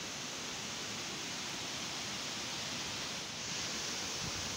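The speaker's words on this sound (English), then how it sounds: "That's the River Guyton, you can hear it, which becomes the River Mersey very soon" Steady, dense rushing of the River Goyt flowing below a wall, a continuous broadband wash of water with no pauses, close and fairly loud throughout.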